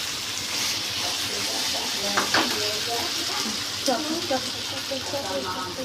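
Arbi (taro) pieces stirred in a pan with ground tomato masala over a high flame, a steady soft sizzle with scraping stir strokes throughout, with some speech-like sounds mixed in.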